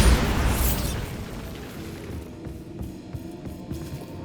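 A Bombarda blast spell explodes in the Hogwarts Legacy video game, a loud booming burst at the start that trails off into a long, rumbling, crackling decay.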